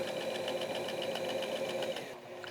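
A sewing machine stitching raincoat lining, a steady fast mechanical whir with regular needle ticks, close and moderately loud, slowing and stopping near the end.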